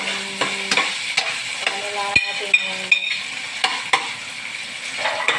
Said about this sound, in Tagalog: Golden brown na ang ating bawang. So, lagay na natin giniling.